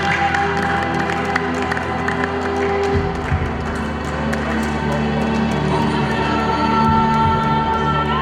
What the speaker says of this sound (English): Please keep clapping, keep clapping, keep clapping.